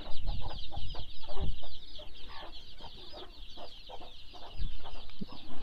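Chickens cluck in repeated bursts close by in a poultry shed, with hens sitting on eggs, over a steady, busy chorus of high chick peeping.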